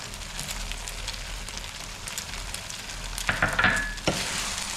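Dry fruits frying in ghee for semiya kesari, a steady soft sizzle with a spoon stirring through it, growing briefly louder with scraping near the end.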